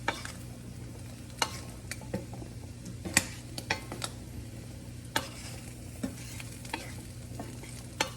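Chickpeas frying in a pan for gyros, steadily sizzling while a utensil scrapes and taps against the pan in irregular strokes, with seasonings going in; fairly quiet and close, no talking.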